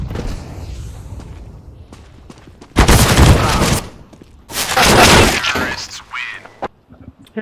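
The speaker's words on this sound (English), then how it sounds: "Grenade out." Grenade explosion in Counter-Strike: Global Offensive, heard as two loud, broad bursts with rumbling decay, separated by quieter game noise and faint clicks; voices talk around them.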